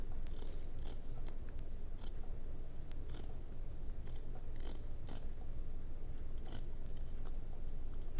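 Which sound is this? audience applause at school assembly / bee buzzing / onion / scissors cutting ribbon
scissors cutting ribbon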